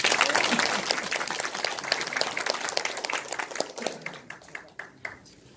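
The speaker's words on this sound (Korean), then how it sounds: "박수로 모시겠습니다" A crowd claps loudly at first, the applause thinning into scattered claps before fading out.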